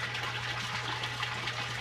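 Water gushes through an auto siphon in the center grow bed of an IBC aquaponic system inside a greenhouse, a steady close rushing with a low hum beneath it.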